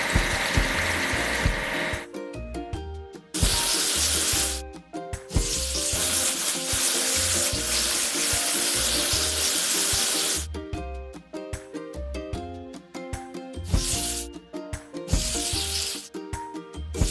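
Water sprays across a dropside truck during a washing task in a construction video game, a loud steady hiss running in long stretches that alternate with bursts of bright, bouncy game music.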